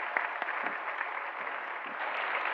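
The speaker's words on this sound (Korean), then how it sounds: "격려의 박수 한번 하겠습니다" A church congregation at a Sunday service claps in encouragement for new members, a faint, even patter of many hands heard from a distance and holding steady throughout.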